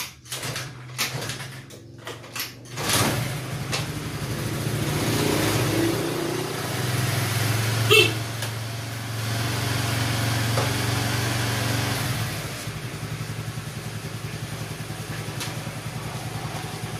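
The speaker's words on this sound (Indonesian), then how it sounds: "saya akan coba untuk menghidupkan motor ini." Honda Vario Techno carburetor scooter engine starting after a few cranking attempts, then idling steadily with a light high-pitched hum and a brief rev, close by and without speech.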